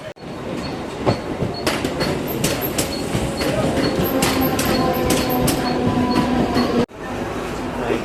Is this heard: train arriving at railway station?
yes